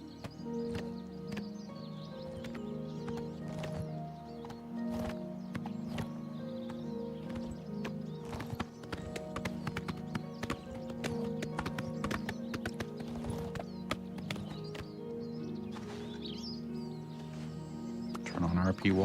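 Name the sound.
horse hooves clip-clopping uphill in video game Oblivion Remastered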